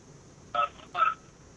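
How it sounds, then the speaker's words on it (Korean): Two short electronic telephone tones, about half a second apart, sound while a call is being connected during a broadcast phone-in, faint and clean against a quiet line hiss. "전화를 다시 한번 제가 연결해 봅니다."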